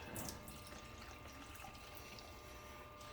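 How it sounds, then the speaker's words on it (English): Fresh tap water runs steadily into a pan of homemade enchilada sauce made with steep juice, a continuous close splashing flow for about three seconds with no talking. "Add some fresh water here."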